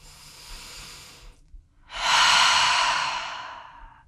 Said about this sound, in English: Full breath in and out.